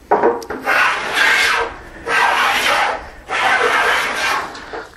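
A hand plane takes thin shavings off a wooden workbench top in three long, raspy strokes, close and loud, with short pauses between passes.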